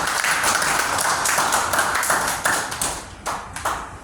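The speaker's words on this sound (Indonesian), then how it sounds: "Beri tepukan untuk diri kita sendiri." A church congregation at a Sunday service claps for themselves, a brisk burst of many hands that thins into a few scattered, separate claps before fading.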